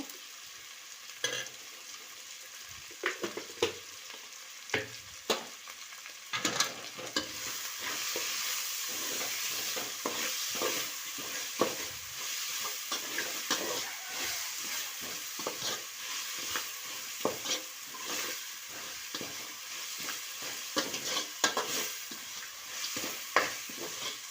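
Tomato and onion fry in a pan with salt for avalakki chitranna, a soft continuous sizzle overlaid with frequent clicking, scraping stirs of a utensil against the pan that come in irregular bursts, and no voices.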